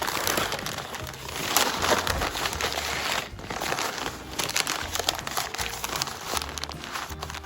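Wrapping crinkles and rustles as it is folded around beef ribs for the grill, a close, irregular crumpling with soft handling bursts and a short pause partway through, no voices.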